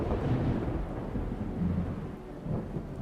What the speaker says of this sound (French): Ils ont rajouté le tonnerre.